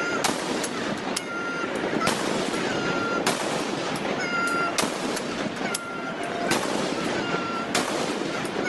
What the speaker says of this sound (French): C'est un salut au canon qui est effectué avec 3 canons